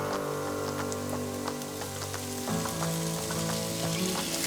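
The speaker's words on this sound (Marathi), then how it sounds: "आता ह्याच्यात आपण बारीक चिरलेला टोमॅटो घालायचा आहे।" Finely chopped tomato frying in onion paste in a pan for a sweetcorn toast sandwich, a steady close sizzle with dense crackling that grows a little louder partway through, under faint background tones.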